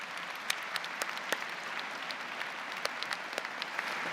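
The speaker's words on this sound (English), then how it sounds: "Graduates, may I ask you to please join me in a round of applause for MRU's wonderful" Steady round of applause from graduates at a university convocation ceremony, moderately distant and continuous, with a few sharper individual claps standing out.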